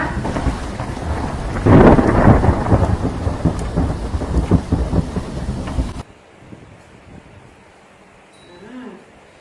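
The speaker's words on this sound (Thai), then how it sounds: "เปียกฝนไปหมดเลยค่ะ" Heavy rain pours down loudly with rumbling thunder for about six seconds, then the storm noise cuts off abruptly, leaving a quiet background with a faint voice near the end.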